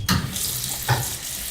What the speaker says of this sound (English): wash your hands with soap and hot water for the length of time it takes to sing Happy Birthday twice